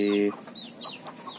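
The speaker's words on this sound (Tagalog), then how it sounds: "Yan yung isang mestizong labuyo." Mestizo junglefowl hen giving a short, close, tonal cluck, followed by soft, faint clucks and rustling nearby.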